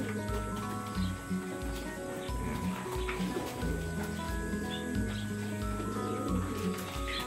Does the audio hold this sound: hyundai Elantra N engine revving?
no